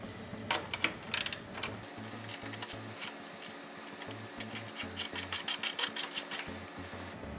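Hand ratchet turning a Torx bolt on the rear Ohlins shock of a 2024+ Harley-Davidson Street Glide, giving rapid repeated clicking bursts in a steady rhythm, close and moderately loud with no talking.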